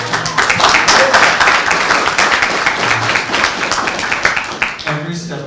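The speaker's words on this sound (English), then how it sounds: "Give a round of applause." An audience at a men's health summit at Whittier Street Health Center in Boston claps in a loud, dense burst that thins toward the end, with some voices mixed in.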